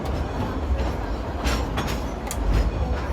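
Dollywood steam train rolling along its track through the Smoky Mountains, a steady loud rumble with rhythmic clicking of wheels over rail joints, heard from on board.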